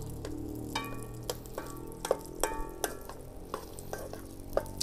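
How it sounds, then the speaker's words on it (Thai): Repeated scraping clinks of a utensil against a hot wok while stir-frying Chinese sausage fried rice, with a faint sizzle underneath, in an irregular stirring rhythm. "กระทะเริ่มเดือดแล้ว"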